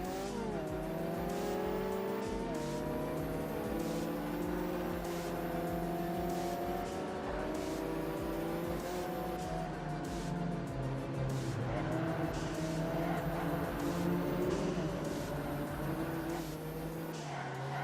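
Race car engines roar continuously in the Ford Racing 3 video game, with a loud, steady drone of revving and shifting pitch as cars launch from the start and accelerate together.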